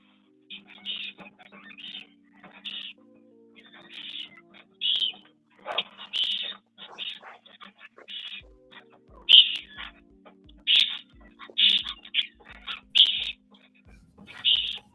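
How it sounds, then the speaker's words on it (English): Repeated bright calls from Australian wild parrots chirp in short bursts, moderately close, with a low steady hum underneath and occasional soft thumps. "More of these birds show up, the more it'll sound a little noisy."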